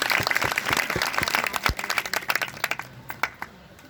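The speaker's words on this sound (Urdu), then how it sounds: "زوردار تالیاں" An audience at a lecture bursts into loud applause. The clapping is dense and steady at first, then thins into scattered claps toward the end.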